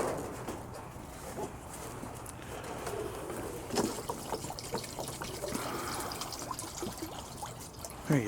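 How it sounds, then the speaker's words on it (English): Water trickles and pours into an animal water bowl on a cold winter day, a steady light splashing with birds cooing and chirping in the background. "I'm going to fill up these guys' water bowl"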